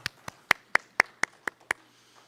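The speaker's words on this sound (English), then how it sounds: "Virtual round of applause." Eight sharp, separate hand claps in an even rhythm at a business summit, close and clear over a quiet background, from a lone person or a few people.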